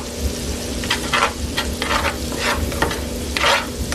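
Mashed garlic being stirred and cooked in a pan for a shrimp dish with creamy garlic sauce. The spoon makes loud, close scraping strokes in quick bursts over a constant sizzle.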